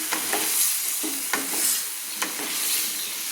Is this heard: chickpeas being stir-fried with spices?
yes